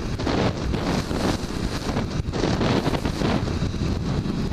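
Strong gusty wind on an extremely windy day buffets the microphone in a loud, continuous roar with uneven surges throughout.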